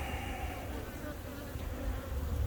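Honey bees buzz during a spring hive inspection, a faint, steady swarm hum from defensive bees that swells slightly toward the end, with no voices.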